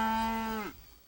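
A cow on a cattle ranch gives a single deep, drawn-out moo that holds steady, then drops and trails off, near and clear with no talk.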